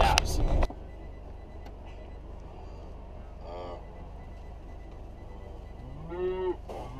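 Calves on a farm moo twice, one drawn-out call in the middle and a louder one near the end, over a low steady background hum with a brief clatter at the start.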